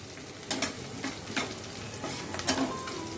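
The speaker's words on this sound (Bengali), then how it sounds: "তাহলে এগুলো ততক্ষণে একটু ফ্রাই হয়ে যাক" Soya chunks frying in a pan for a chilli soya dish, a steady low sizzle broken by a few clattering stirs, fairly close and moderately quiet, with no voices.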